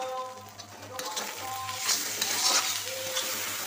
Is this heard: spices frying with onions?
yes